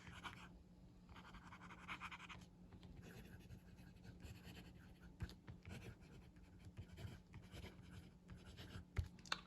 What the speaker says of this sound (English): this nib writes very smooth, as you would expect from these Pilot nibs